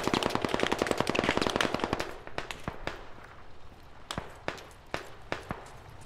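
Automatic machine gun fire in the military shooter Squad, with rapid dense bursts for about two seconds, then scattered single shots and short volleys at varying distance.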